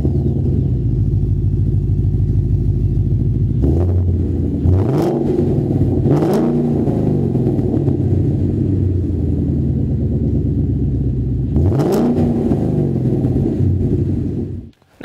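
A deep V8 engine of a 2015-2017 Mustang GT with a MagnaFlow Competition Series cat-back exhaust rumbles steadily, then revs up sharply in several bursts, each blip rising and falling back to a throaty idle.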